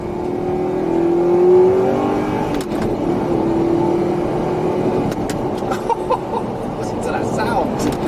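An Audi R8 with a gated manual gearbox revs steadily with a rising engine note, mixed with cabin noise and someone talking over it.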